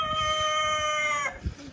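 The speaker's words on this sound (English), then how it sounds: "He is a pretty old rooster." An old rooster crows in one long, loud, sustained call with steady harmonics, then breaks off into a short scuffle of noise.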